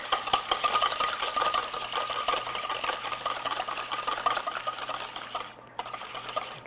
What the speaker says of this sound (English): I'm just going to use a wire whisk to break them up